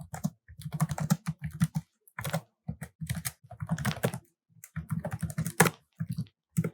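Someone types Java code on a computer keyboard in close, fast bursts of key clatter separated by short pauses, with no voices.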